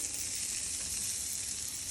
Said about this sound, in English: you put a 1/2 cup of sweet yellow onion right there in that pan. Just like that. You hear that? Sizzle, sizzle